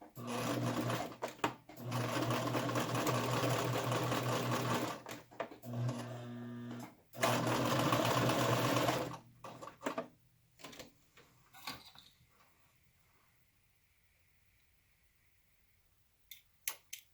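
A sewing machine runs a top stitch along the opening of a fabric yarn ball cozy, humming in several loud steady bursts with brief pauses for backstitching, then stopping into quiet handling clicks.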